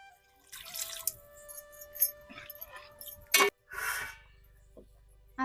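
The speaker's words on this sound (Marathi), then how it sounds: "आता हे एकत्र करून आपल्याला शिजायसाठी तांब्यावर पाणी टाकायचंय" Water poured onto the lid of a pot of spicy chicken liver curry cooking on the stove gives a short splashing burst midway, set among faint kitchen clatter and brief low murmurs.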